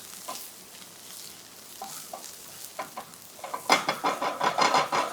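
Apple and Camembert pie filling frying and being stirred in a pan over medium heat: soft scattered taps at first, then a steady rising sizzle with rhythmic stirring scrapes, close up, no voices.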